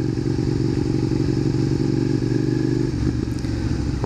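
A Ducati 1198 sport motorcycle rolls up nearby with a loud, steady low engine drone and throaty idle pulsing that shifts near the end, alone without talking.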